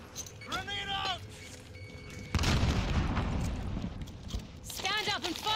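A grenade explodes in a military shooter video game, one loud boom with a long rumbling tail, framed by chirpy radio-style game voices before and after.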